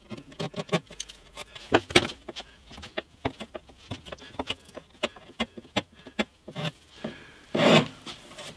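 Tidying a freshly cut edge on a wooden guitar neck in a workshop: a string of short, close scraping strokes at an uneven pace, one longer rasp near the end, with no speech.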